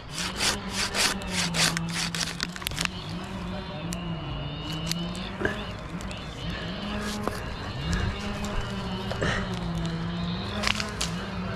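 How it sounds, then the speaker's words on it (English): A handsaw cuts through white pine while a tree is taken down. The strokes rasp close and loud in a steady back-and-forth rhythm, with a low hum underneath and a few brief gaps between passes. "I'm gonna end up like piecing this thing down completely with my handsaw"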